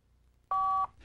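A 1994 Motorola Portfolio cellular phone gives one short two-tone electronic beep as it powers on, clean and close against near silence.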